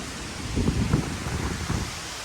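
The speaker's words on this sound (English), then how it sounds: "It's windy back here, but it's like not as windy as it is in the front." Gusts of wind from a hurricane buffet the microphone in soft, rumbling bursts against a steady airy hiss, with no talking.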